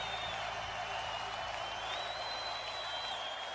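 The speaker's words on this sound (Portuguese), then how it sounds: "Você pode aplaudir com todo carinho." A congregation at a worship gathering claps and cheers continuously, a dense crowd sound running throughout, with sustained musical tones layered over it.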